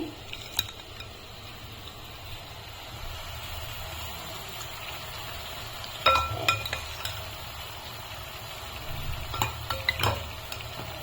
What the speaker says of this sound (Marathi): आणि आता ही जी कोळंबी आहे ते मी याच्यामध्ये ऍड करते.